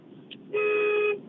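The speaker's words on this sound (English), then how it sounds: "Honk it again." A car horn sounds once, a weak, thin steady honk lasting about half a second after a brief faint chirp, heard at moderate level over a quiet background.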